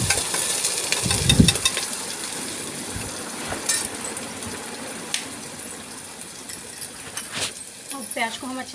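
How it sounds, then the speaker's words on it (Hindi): Onions fry in a pan with mustard seeds, giving a soft sizzling hiss with occasional pops and a few scraping stir sounds, close by with brief voices and clatter in places. "अब प्याज को हम अच्छे से फ्राई होने देंगे।"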